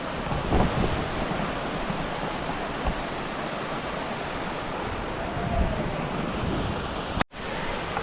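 The Kolani waterfall in Patratu valley gives a steady, loud, broadband rushing roar of falling water, with wind buffeting the microphone now and then, until the sound cuts off abruptly near the end.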